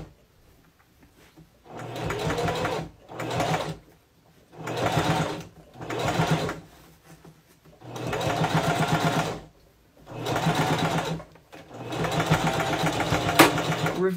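A sewing machine stitches a satin hair bonnet in short bursts of whirring, about six runs of a few seconds each separated by brief pauses, close and moderately loud with no talk.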